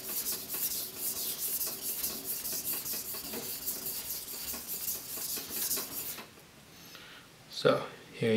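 A Japanese knife is sharpened on a Gesshin 5000 grit splash-and-go water stone, making a steady, close, swishing rub in back-and-forth strokes that stops near the end, with someone talking over it.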